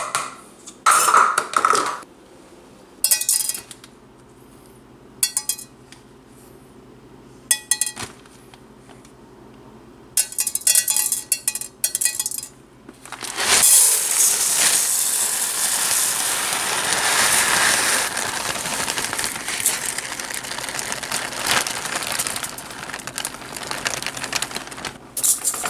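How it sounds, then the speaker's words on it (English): Uncooked rice being rinsed with water in a pot, starting as clinks and clatter against the container, then from about 14 seconds a steady close rush of running, swishing water that lasts to the end. "If you want to make good rice, you gotta rinse it."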